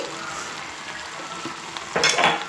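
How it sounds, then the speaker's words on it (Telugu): A spoon stirs green peas and potato curry in a pan, soft scraping over a low sizzle, rising to a louder clattering stir near the end, close and with no voices. "ఇవి కూడా ఒకసారి మిక్స్ చేసేద్దామండి నీట్గా."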